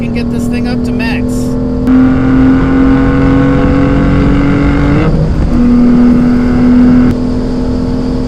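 A 2015 BMW M3 (F80) engine drones loudly while accelerating toward top speed, its pitch rising through gear changes, with a brief voice at the start over the steady engine roar.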